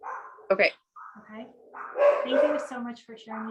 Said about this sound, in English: And sorry about the dogs.